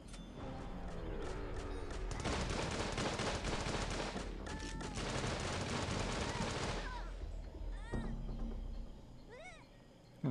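Rapid automatic fire from a Gatling gun rattles in long, dense bursts in Tiny Troopers 2, with sharp shots and whining game effects layered on top before the barrage tapers off.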